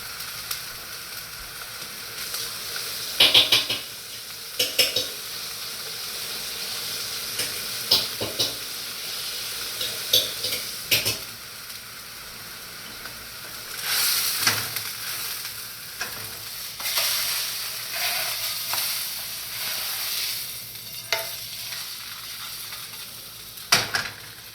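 A steak slow-cooking in a pan with red wine, giving a steady close sizzle and frying crackle with intermittent scraping and stirring clatter, no voices.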